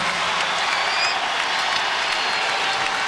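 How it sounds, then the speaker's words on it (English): A basketball arena crowd cheering and applauding LeBron James as he returns to the game in a 2008 Wizards–Cavaliers preseason game, a loud, dense, steady roar throughout. "LeBron James getting a big cheer as he's sent back in the game."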